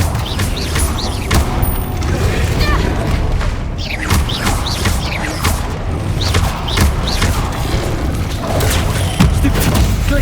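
Spell explosions go off in the Hogwarts Legacy video game as booming blasts and thuds in a continuous loud battle din, with repeated impacts layered over a rumbling low end.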